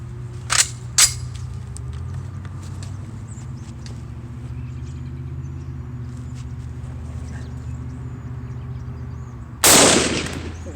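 A Springfield M1A rifle fires ball ammunition outdoors, with two sharp cracks close together near the start and one louder blast near the end, over a low steady background hum.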